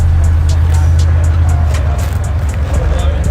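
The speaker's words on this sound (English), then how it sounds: "Yeah, I got my Mustang running." A Ford Mustang race car engine runs loud and close with a steady low rumble, amid crowd babble at a midnight racing event.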